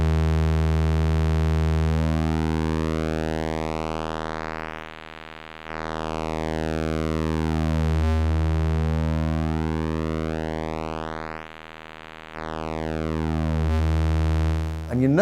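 A PWM Malevolent synthesizer plays a sustained tone whose harmonics sweep up and down in slow, smooth glides as the pulse width changes, loud and alone, with brief dips in level between the sweeps.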